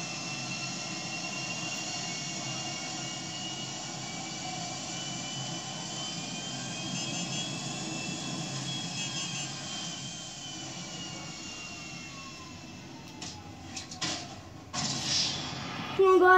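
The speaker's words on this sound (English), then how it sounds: "Okay, guys, there's 3 planes." A steady jet engine roar from aircraft overhead fills the air, distant and droning, before fading into brief handling noises near the end.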